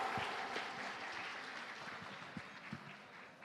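Audience applause at a Kurdish poetry evening for Yalda night, welcoming a poet to the stage: steady, dense clapping from a hall crowd, moderately loud throughout with a few sharper individual claps near the end.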